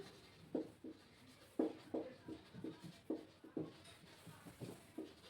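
Chalk or pen strokes on a board or paper, quiet and close, coming in quick irregular scratchy taps and short strokes with brief pauses between them.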